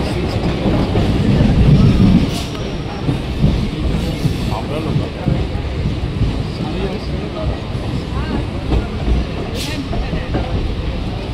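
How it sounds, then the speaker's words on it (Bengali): A Bangaon local train from Sealdah heard from inside, steady rumbling and rhythmic clatter of the wagons, with people talking faintly in the background. "2:30-র সময় শিয়ালদা থেকে ট্রেন ধরেছিলাম বনগা"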